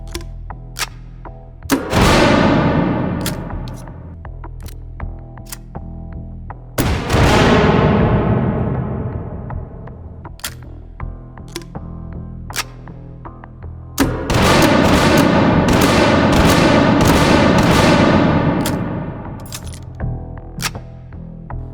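Launchers firing in the VR shooter game H3VR: loud booming blasts with long ringing decays, scattered sharp clicks and metallic handling ticks between shots, and a dense sustained barrage near the end.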